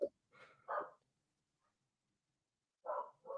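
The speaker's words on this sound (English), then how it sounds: "and so now my dog is barking." Indoor pet dog barking in short bursts: a couple of quick barks at the start, a pause of silence, then two more barks close to the listener, set off by another dog barking outside.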